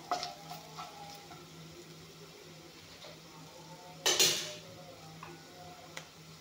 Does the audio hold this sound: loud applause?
no